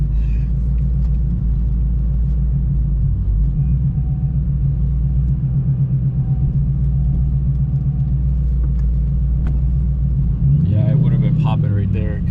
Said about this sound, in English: Just pulled out of the driveway, going down my street.